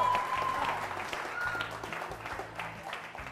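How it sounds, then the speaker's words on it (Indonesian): A studio audience of young students at an academy class applauds in a steady, dense patter that fades slightly toward the end, with faint voices mixed underneath. "Tepuk tangan dulu buat semuanya di sini ya."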